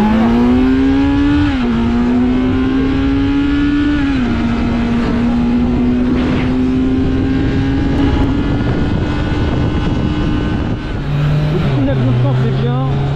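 A Kawasaki Z900 A2 motorcycle engine drones at high speed during a speed test, pitch climbing through the gears with brief dips at shifts, loud and continuous with wind noise.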